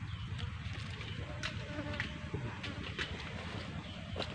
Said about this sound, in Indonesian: Banyak sekali lebah beraktivitas keluar masuk sarang.